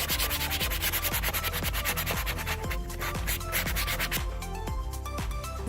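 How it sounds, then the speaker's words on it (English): A leather surface is sanded to smooth away rough fibers, with a steady rhythmic back-and-forth rasping scrub that repeats about twice per second, close and loud. "Sand away again any rough fibers that were burned so you have a smooth finish."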